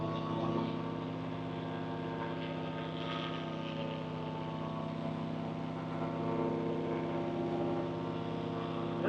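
Paramotor engine and propeller fan running steadily behind a pilot in flight over jagged mountains near Vang Vieng, a constant close droning hum with layered harmonics that holds level throughout.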